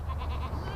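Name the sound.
goat bleating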